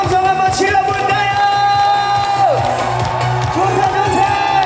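Fans at a concert at the Gimhae Hanwoo beef festival cheer and shout loudly and continuously, a dense roar of voices over music with sustained tones throughout.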